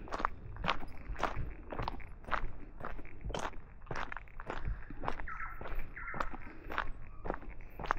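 Steady footsteps of people walking along a quiet wooded path in a park in Auckland, with roughly a dozen crisp, crunchy steps at an even pace, close and soft, with no talking.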